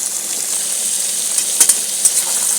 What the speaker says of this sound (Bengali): আলু কেটে দুটোকে পেঁয়াজের সাথে একটু ভেজে দেবো